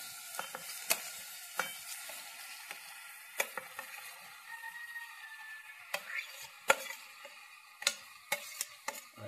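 Mixed young jackfruit vegetable is stirred in a hot pan: a quiet, faint sizzle with a string of sharp clicking scrapes and taps of a spoon against the metal, irregularly spaced.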